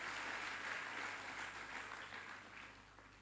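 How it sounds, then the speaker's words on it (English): A conference audience at the Tony Elumelu Foundation Forum applauds faintly and steadily in a large hall, the clapping tapering off slightly toward the end, with no voices over it. "I think that's what deserves a round of applause."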